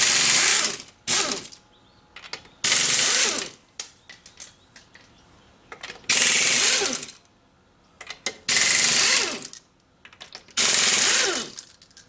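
Rapid ratcheting bursts from a socket wrench loosening rear wheel nuts on a 2003 Ford Mustang during a brake job, loud and close, in five or six separate runs of clicking with short quiet gaps between.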